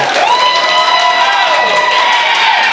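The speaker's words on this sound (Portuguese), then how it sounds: "Eu peço uma salva de palmas a esses dois deputados que tanto lutaram por Mairi" Loud, sustained applause and cheering from an outdoor civic crowd at a Brazilian municipal water-works ceremony, dense clapping with excited shouts and high voices running throughout.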